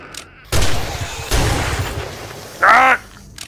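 Double-barrel shotgun firing in 7 Days to Die, two loud close blasts about a second apart, followed by a brief squawking creature cry, no speech.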